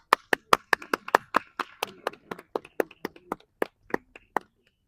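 Hands clap in a steady, fairly quick rhythm at a yoga session, about twenty sharp, distinct claps, close and clear with faint background murmur, slowing toward the end.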